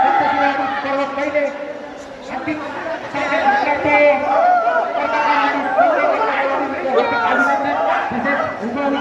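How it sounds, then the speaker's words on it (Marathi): Crowd at a village cricket league final erupting in celebration after the last-ball win, a loud mass of cheering, shouting and excited chatter from many people, close and continuous throughout. "हा बघा जल्लोष."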